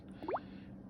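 Coolant glugs as it bubbles down into the radiator of a Jeep JK Wrangler being filled after a heater core flush, giving a single short, close gurgling plop over a low steady hum.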